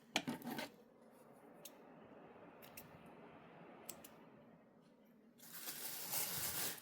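Scissors snip loose threads on an unlined fabric tote bag, a few sharp, quiet cuts spaced apart in a still room, ending in louder fabric rustling.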